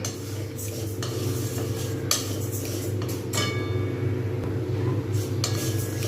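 Mung dal dry-roasting in a pan for khichuri makes a soft, steady rustle as it is stirred, with occasional sharp scrapes and clinks of the spoon against the metal, close and fairly quiet.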